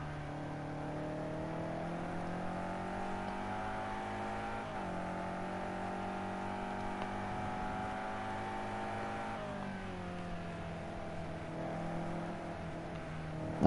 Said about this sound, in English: Just listen to this amazing engine sound by this BMW.